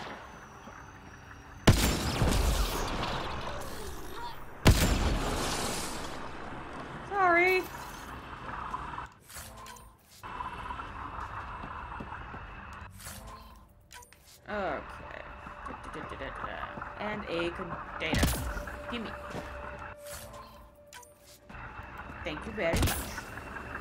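Gunfire in Mass Effect Andromeda sounds as a few sharp, loud shots spread across the scene, heard over game dialogue and background ambience.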